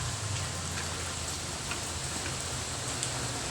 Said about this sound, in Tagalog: Umagang umaga. Napakalakas ng ulan.